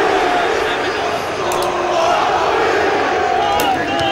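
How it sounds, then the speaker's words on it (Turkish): Steady, loud stadium crowd noise in the FIFA 16 football video game, a Fenerbahçe match, swells with applause and cheering and holds evenly throughout. "Alkışlar var"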